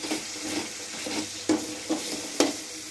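Tomatoes stir-fried in a pan, a soft steady sizzle with a few sharper scraping stirs of the spatula against the pan, close by with no talk.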